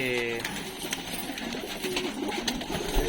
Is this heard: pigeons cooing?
yes